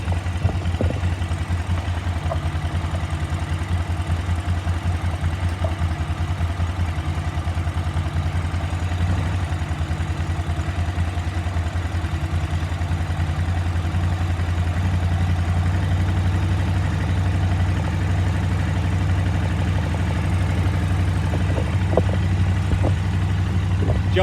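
A KTM 950 motorcycle's twin-cylinder engine idles steadily and loudly up close during carburetor syncing, a constant low throb with faint mechanical clatter and no speech.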